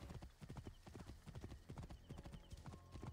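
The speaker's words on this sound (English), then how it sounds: "Go faster, horsey, go!" Galloping horse in the Assassin's Creed Origins video game, steady rapid hoofbeats drumming throughout over a faint game backdrop, with a brief whinny-like tone near the end.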